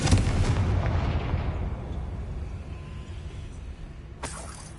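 A Confringo blasting spell goes off in a Harry Potter video game, a loud booming explosion that rumbles and slowly fades, then a short sharp burst near the end.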